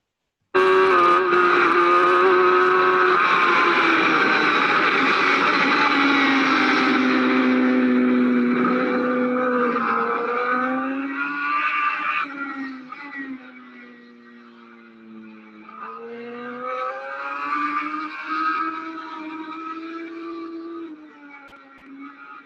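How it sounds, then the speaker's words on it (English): A race car laps a circuit under smooth throttle, the engine droning loud and steady with gradual pitch rises and falls as revs build and ease, fading quieter midway then returning. "I want you to listen to how smooth the throttle is."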